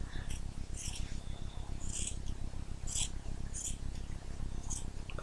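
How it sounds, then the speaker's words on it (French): Scissors cutting fabric to make a doll dress: a series of crisp, close snips at roughly one-second intervals over a steady low background hum. "Déjà on va découper un morceau au milieu."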